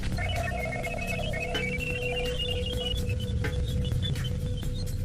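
Radio emissions from Jupiter: steady static hiss with eerie whistling tones drifting through it, one gliding downward in pitch, continuous and fairly loud.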